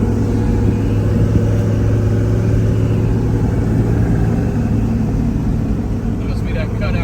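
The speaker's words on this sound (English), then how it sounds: "Must be that cutout making a little noise." A turbocharged Chevrolet Suburban making about 1200 horsepower drives off a dyno with its exhaust cutout open, giving a steady, loud, close engine drone and rumble that holds through the whole stretch.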